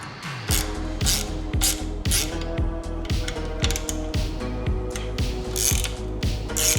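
A ratchet loosening bolts on the rearsets of a Ducati Panigale V2, giving loud, close, rapid clicking in a steady back-and-forth rhythm throughout, with no talking.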